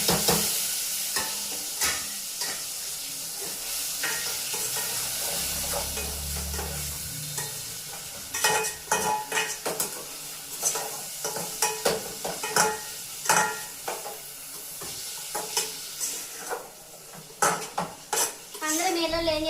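Chopped tomatoes and green chillies for egg biryani fry in a pan with a steady sizzle, while a utensil stirs and scrapes against the metal in frequent sharp clinks.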